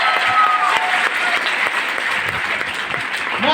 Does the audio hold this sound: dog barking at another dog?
no